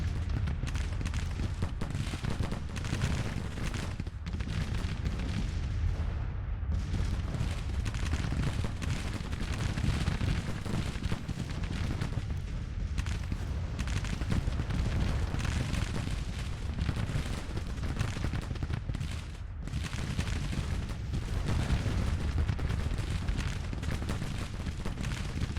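A Civil War artillery battery fires in Grand Tactician: The Civil War, producing a steady, dense roll of distant booms and crackling musketry. The noise continues almost unbroken for the whole stretch.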